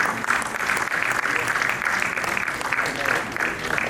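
An audience at a commission session applauds guests on stage, a continuous, fairly loud round of many hands clapping with faint voices mixed underneath.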